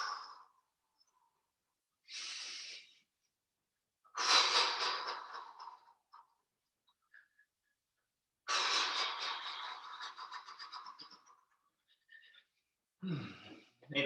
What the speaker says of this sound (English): Taking some deep breaths as you do.